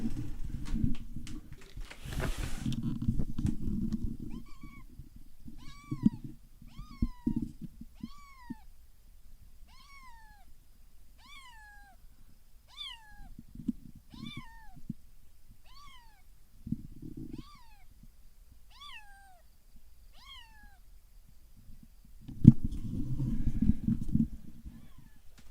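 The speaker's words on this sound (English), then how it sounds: "Is that a kitty, or is that a kitten? It's a kitten." A hungry kitten meows repeatedly, about a dozen short rising-falling cries at a steady rhythm, fairly clear against a quiet background, with low rumbling handling noise at the start and end.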